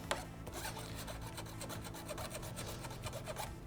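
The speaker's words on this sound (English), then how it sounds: "So now I'm going to grab a file and just go over my cut." Hand file rasping along the freshly cut edge of a painted steel subframe on a 2017+ Honda Grom, steady close strokes repeating in a quick even rhythm with no talking.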